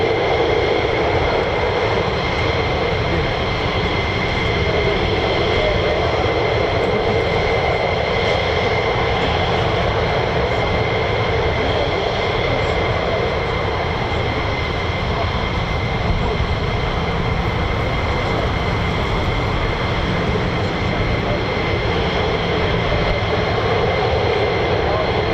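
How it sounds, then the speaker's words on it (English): USAF F-15 fighter jets of the 48th Fighter Wing at RAF Lakenheath, making a continuous, loud, dense engine roar that holds steady throughout with little change in level. "Oh, this is lovely. Lots of F-15s."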